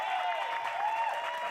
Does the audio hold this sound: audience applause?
yes